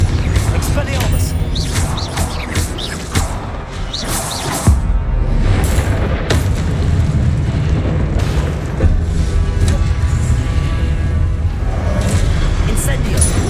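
Confringo spell explosions in Hogwarts Legacy combat burst again and again as heavy booms and whooshes, loud and dense, with shouting voices over the blasts.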